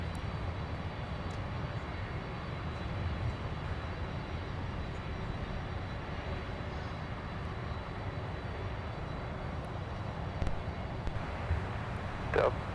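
An airplane takes off from runway 17 at Minneapolis–Saint Paul airport, producing a steady, distant broadband roar that holds evenly throughout, with no voices present.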